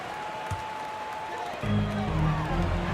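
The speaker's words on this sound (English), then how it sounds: "Give a big round of applause for Celtics Entertainment." Steady crowd applause fills a basketball arena in the NBA 2K24 video game, swelling louder partway through, with an announcer's voice talking over it.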